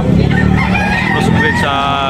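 A crossbred rooster crows loudly and close by at a busy chicken market in Tabunok, Talisay, Cebu, one drawn-out call with a bright rising tail, while someone talks over it.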